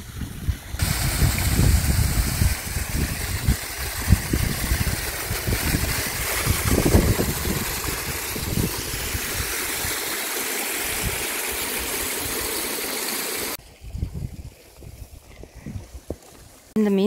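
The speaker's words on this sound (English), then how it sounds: "It appears that we have found the top of this waterfall." Water rushes at the top of a waterfall on rocky ground on Ben Venue in the Scottish Highlands, a loud, steady broadband roar with gusts of wind that cuts off near the end.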